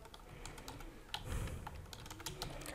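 Quiet computer keyboard typing as a caption is entered for a Facebook live video, a light irregular run of key clicks with a slightly heavier tap near the middle, no talking.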